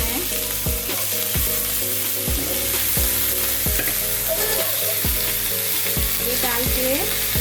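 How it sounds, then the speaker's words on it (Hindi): Potatoes coated with salt and turmeric fry in oil for Kolkata-style chicken biryani, making a loud, constant sizzle over a steady, rhythmic musical beat in the background. "तो ये हम पटाटो डाल देते हैं फ्राई करने। ये नमक और हल्दी लगा के फ्राई करना है।"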